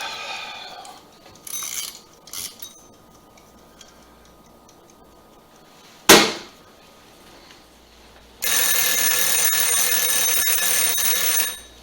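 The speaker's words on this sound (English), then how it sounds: "Now we're going to set the timer and let it set for 5 minutes." A kitchen timer, set while making tapioca pudding on the stovetop, gives a brief sharp beep near the middle and then rings with a loud continuous alarm for several seconds after quiet kitchen noises and a few soft clicks.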